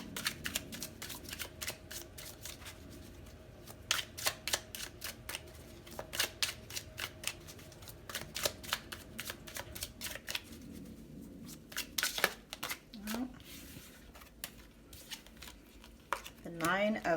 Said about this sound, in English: Let's get one more card from this deck.